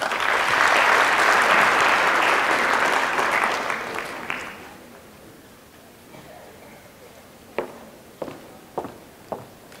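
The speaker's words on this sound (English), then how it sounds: "give a round of applause to everyone I introduced" An audience at a university orientation event claps loudly for several seconds, the applause fading out, followed by a few isolated footstep-like taps in a quiet hall.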